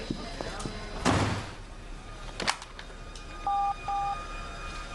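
Two short electronic telephone dialing tones beep near the end, following a loud thud and door-like clatter, with background noise throughout.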